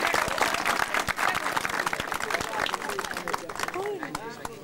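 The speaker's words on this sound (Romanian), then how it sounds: "Să-l aplaudăm încă o dată" A crowd applauds a junior 50cc motocross rider at a championship round in Caransebes, dense steady clapping with a voice over a loudspeaker talking through it and some cheering near the end.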